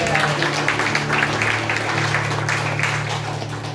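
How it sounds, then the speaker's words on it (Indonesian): A church congregation claps together in a steady, dense round of applause, with a sustained low musical tone underneath throughout. "berikan tepuk tangan yang meriah"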